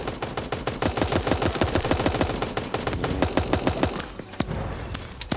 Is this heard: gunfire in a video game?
yes